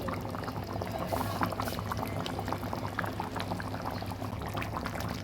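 Koi fish simmer in an oily curry gravy, a steady, close bubbling and sputtering that goes on unbroken and fairly loud, with no talk over it.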